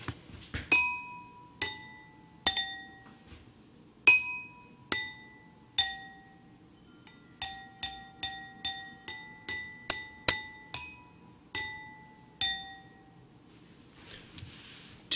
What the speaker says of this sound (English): You can hit each wine glass gently.